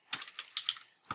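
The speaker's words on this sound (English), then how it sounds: "I'll click anywhere to start typing" Typing on a computer keyboard while composing text for a postcard front, with a quick run of light clicking keystrokes, a short pause, then one more tap, close and fairly quiet with no talking.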